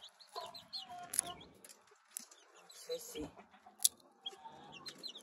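A newly hatched chick peeps in thin, weak high cries amid scattered clucks and rustling, heard close, with someone speaking softly between the calls.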